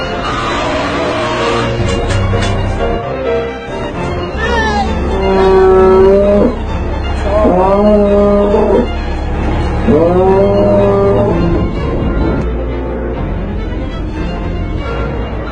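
Dairy cows on a farm give three drawn-out, wavering moans in the middle of the stretch, over a steady, fairly loud background.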